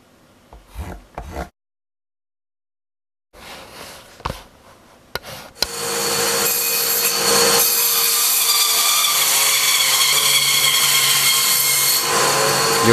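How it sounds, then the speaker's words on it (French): A band saw splits wooden logs into quarters as blanks for wooden clogs, starting with a few knocks and handling sounds, then a loud, sustained close-up sawing roar with a steady whine. "Les rondins sont ensuite refendus en quartier à la scie à ruban."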